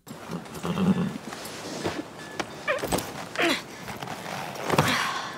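A horse in a snowy, cold setting in an episode of The Last of Us snorts and shuffles in short, scattered bursts at close range, with quiet gaps in between.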